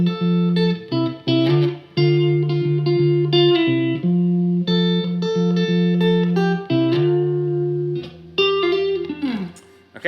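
An electric guitar playing the intro riff of a song: alternating, ringing notes in a steady pattern with a slide near the end, close and clear.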